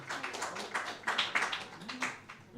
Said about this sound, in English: Receiving a round of applause from the now probably around 100 people down watching at Giffnock Tennis Club.